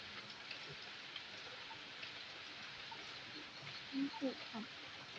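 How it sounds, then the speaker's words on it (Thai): Evening rain falling steadily outdoors at a rural home, a gentle continuous hiss of drops on surfaces, with a few brief louder sounds near the end. "บรรยากาศฝนตก"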